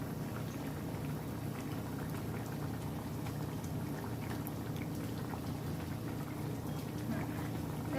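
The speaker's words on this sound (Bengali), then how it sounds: "ঝোলটা আমার ফুটে উঠেছে" A sour-spicy lentil curry broth for bata fish bubbling at a rolling boil in a pot, a steady close mass of popping bubbles and soft gurgles with no voices.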